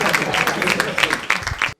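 Comedy show audience clapping in a short, dense burst of applause that fills the room and then cuts off abruptly.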